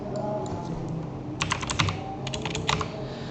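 Keys clatter on a computer keyboard as a command is typed, with a quick cluster of crisp taps, a brief pause, then another short run of close, clicky strokes.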